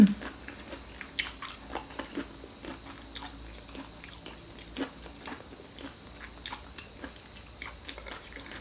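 Crunchy chewing of fresh shrimp papaya salad with large plump shrimp, a quiet, close series of crisp bites and crunches repeating irregularly, with no talk.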